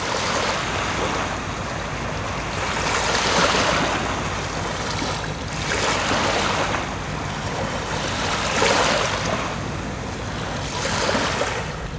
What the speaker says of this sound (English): I'll leave you with the sound of the waves lapping up onto the beach